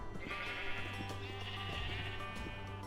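White sheep in the video game Township Tales bleat in a long, wavering cry, faint and set against a low droning background.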